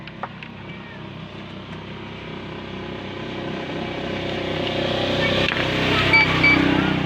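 Pump motor of a coin-operated water vending machine under repair, running with a steady mechanical drone and hum that grows gradually louder toward the end, with no talking over it.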